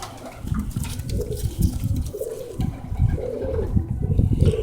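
Tippler pigeons coo in low, repeated, throaty calls that overlap continuously, close by, with soft rustling in the background.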